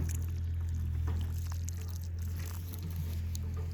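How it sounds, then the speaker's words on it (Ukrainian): Water pours steadily into a garden planting hole for a blueberry bush, a low continuous splashing gush lasting several seconds. "Наливаємо водичку"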